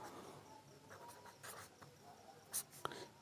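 Hand-writing an equation, likely chalk or pen on a board, heard as a soft scratchy stroke sound with a couple of sharper taps near the end, faint and close with no talking.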